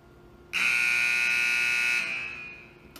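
A scoreboard horn sounds automatically as the timer expires, a loud steady buzzing tone that cuts in abruptly and holds for about two seconds before fading.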